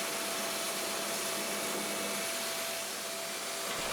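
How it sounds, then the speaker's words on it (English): Electric belt sander working a curved boat hull, a steady loud motor whine with abrasive hiss, continuous and close throughout. "The belt sander works for the bend towards the bottom"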